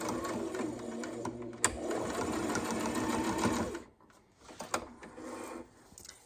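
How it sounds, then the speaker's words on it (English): A sewing machine stitches a pocket on a small handmade gift. It runs in a steady close mechanical chatter for about four seconds, then stops, followed by brief quieter handling sounds and a short stitch burst. "I'm just getting finished up sewing the pocket"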